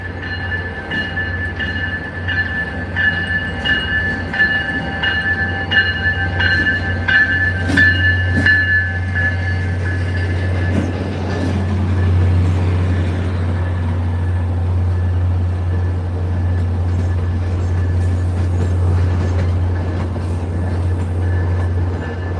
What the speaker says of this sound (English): This is the train to Greenbush.